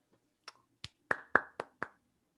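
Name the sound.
hand clap into the microphone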